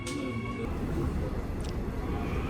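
A subway train in motion heard from inside the car: a steady, loud low rumble and rattle of the ride throughout, with no talk.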